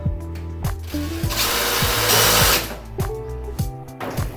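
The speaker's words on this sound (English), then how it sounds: "Tack it in with the screws." A power driver whirs in short, close, loud bursts, with one longer run, as screws are tacked into a dryer vent pipe fitting mounted through a wall.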